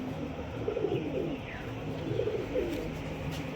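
A male Kamagar pigeon, part of a breeding pair, gives low rolling coos in two short bursts, close by, over a steady background hum.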